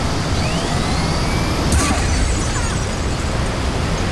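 A barrel bursts after being shot in the video game Hydrophobia: Prophecy, a loud, dense rumbling blast with a brighter crack partway through and a sustained roar, no speech.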